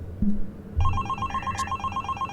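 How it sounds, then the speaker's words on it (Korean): A telephone rings in a horror video game, an electronic bell-like trill that starts after a couple of soft thumps and repeats in a steady pulsing pattern, fairly clear with no talking over it. "전화가 왔는데 전화를 안 받아주나?"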